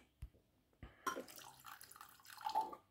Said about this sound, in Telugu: కొంచెం వాటర్ యాడ్ చేసి చూద్దాం